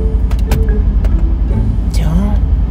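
Video game car engine revving at full throttle, a steady loud drone, with excited talking over it.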